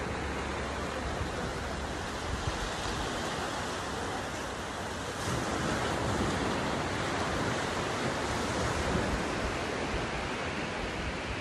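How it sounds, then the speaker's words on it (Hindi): Waves and wind wash over Arambol Beach in North Goa as a continuous, even roar of surf and gusts, fairly soft and unbroken, with nobody speaking. "Maybe one of the most famous beaches in North Goa, Arambol Beach."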